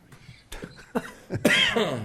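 A string of short, rough coughs builds in strength, the last ones loudest and throatier, close by in a quiet city council meeting room.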